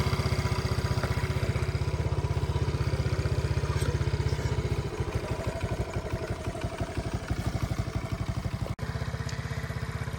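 A 1981 Honda Z50 motorcycle's small engine idles close by with a rapid, even putter, then turns slightly rougher and more clattery partway through, with a brief dip near the end.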